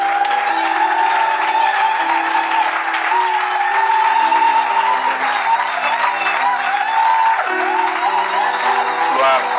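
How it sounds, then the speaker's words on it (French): A church congregation at a conference applauds and cheers loudly and steadily, with whoops and shouting voices mixed into the sustained clapping. "nous allons acclamer Dieu pour ces dons"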